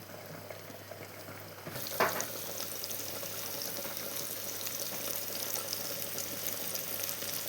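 Fish dropped into a hot pan: a quiet hum gives way to a sudden burst of sizzling as it goes in, then a loud, steady, crackling fry continues close up.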